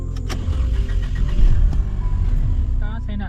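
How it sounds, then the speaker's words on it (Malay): A Mercedes-Benz C-Class W204 with a CGI engine starts up close by with a steady, loud mechanical rumble, and a voice talks over part of it. "Sekarang saya nak start kereta ni."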